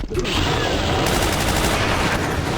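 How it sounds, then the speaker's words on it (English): Sustained, loud automatic machine-gun fire in the Brutal Doom video game, a dense continuous barrage with black metal music and game noise underneath. "Maybe I'll bring back the machine gun here."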